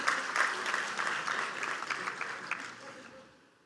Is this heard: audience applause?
yes